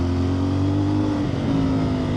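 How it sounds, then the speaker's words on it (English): Motorcycle exhaust revving, captured close on an exhaust-mounted mic, a loud steady droning engine note with a slight pitch shift partway through and no talk. "The exhaust sounds bloody lovely to me."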